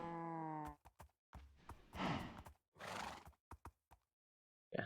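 A horse in Minecraft gives a loud whinny, then snorts, sighs and breathy groans follow among a few hoof clops, with brief pauses between sounds.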